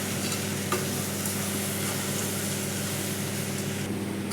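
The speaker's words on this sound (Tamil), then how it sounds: "பயிர் நல்லா எண்ணெயில் வதக்கியாச்சுங்க" Green gram frying and being stirred in hot oil in a pan for a Tamil-style kurma, a steady close sizzle with soft scraping running evenly throughout, no voices.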